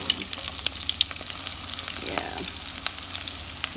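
Sudanese falafel (tamia) fry in hot oil with a steady, close crackling sizzle and scattered pops, while a voice briefly speaks.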